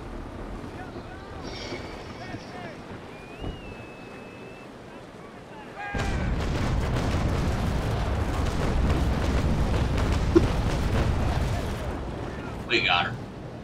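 Ship cannons firing during a Naval Action sea battle on the Pandora hunting traders, a sudden heavy roar of broadside fire that rumbles on with wind and water, after a quieter stretch with faint voices.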